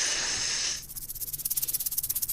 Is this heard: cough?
no